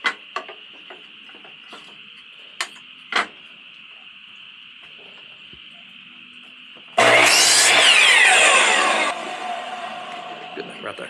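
A saw cuts a cedar board for a planter box, a loud dense burst of sawing lasting about two seconds after a quiet stretch of faint workshop ticks and hum, then fading to a lower rasp.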